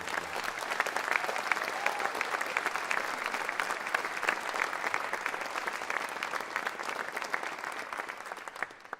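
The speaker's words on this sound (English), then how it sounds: "Give them another big round of applause." An audience at a university wind ensemble festival concert gives a sustained round of applause for the student performers, dense and even throughout, heard from within the hall.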